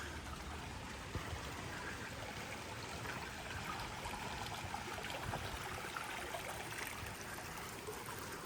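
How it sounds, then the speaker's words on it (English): A babbling brook feeding the River Derwent near Beeley in the Peak District, a steady soft trickling and burbling of water heard alone and fairly quiet throughout. "A quaint little babbling brook again, another supply of water to the River Derwent."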